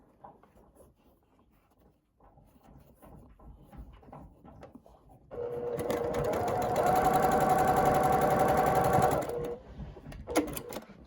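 A sewing machine stitches a quarter-inch quilt seam through a pinwheel block intersection, running loud and steady for about four seconds after quieter handling noises, then stopping.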